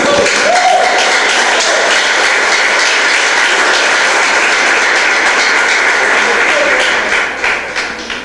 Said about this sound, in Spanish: ¿Puedes darle un aplauso al Señor por eso?